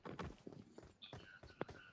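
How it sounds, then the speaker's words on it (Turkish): Footsteps of a player character in the mobile battle royale game PUBG Mobile, a series of soft, fairly quiet steps in an uneven rhythm, with a brief higher game tone partway through. "Bak ayak sesi var."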